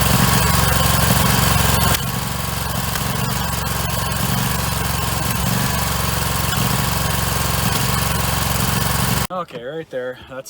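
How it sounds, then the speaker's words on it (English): A loud lawn mower engine, misfiring on one cylinder and backfiring, runs close at full throttle in tall thick grass with an uneven, rough drone. It cuts out near the end as someone speaks briefly. "It's hitting and missing on one cylinder. And it's backfiring"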